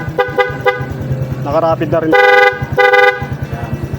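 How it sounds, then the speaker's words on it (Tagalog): A loud aftermarket horn on a Suzuki Raider R150 Fi motorcycle, wired with dual contact alongside the stock horn, sounds in several short toots and then two longer blasts over the idling engine while someone talks. "Loud horn."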